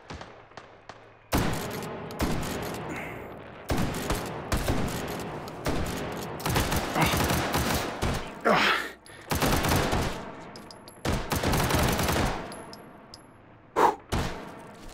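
Rapid bursts of automatic gunfire and repeated single shots crack loudly and close in the VR shooter Hot Dogs, Horseshoes & Hand Grenades on a Wurst War II custom map, with short pauses between volleys and a few heavy thuds.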